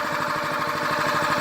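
A no-name overhead valve engine on a 22-ton log splitter idles steadily nearby, a rapid even chugging pulse with a motorcycle-like beat, loud and continuous with no talk.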